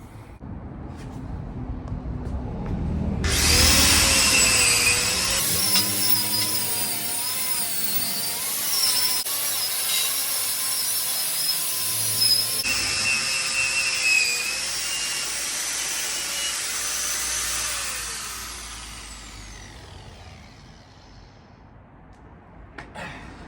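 Angle grinder fitted with a knotted wire wheel spins up loudly with a high, whining rush, holds a steady shrill roar for about fifteen seconds with slight pitch wavers, then winds down and fades.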